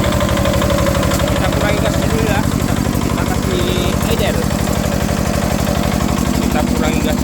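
A tractor engine converted to drive a water pump idles steadily and loudly up close, with a fast, even low thumping pulse throughout and no talk over it.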